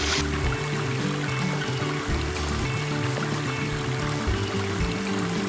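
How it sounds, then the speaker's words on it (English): A stream flows in a steady, close babble and trickle of water, continuous and even throughout with no talk. "we are here at a stream and we're going to see if we can't find any snakes"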